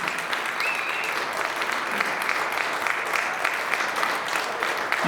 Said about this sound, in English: another big round of applause for Jim.